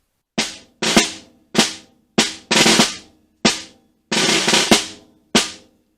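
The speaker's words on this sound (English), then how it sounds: "all of these roughs are played closed, so I'm buzzing them" Close snare drum plays buzzed, pressed ruffs, short rolled bursts landing on accented strokes, repeated in an uneven pattern with brief gaps between.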